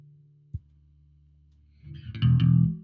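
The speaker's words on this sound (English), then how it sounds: "the TC chorus is one of my favorite pedals, so check it out. Let's play it." An instrument is played through a TC chorus effect pedal: a low amp hum and a sharp click, then loud shimmering notes ring out over the last second.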